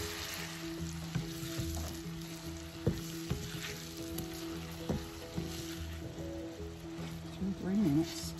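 Banana slices cook in sugar in a pan for banana pancakes, making a soft, steady syrupy sizzle with occasional stirring taps, while a voice talks faintly in the background.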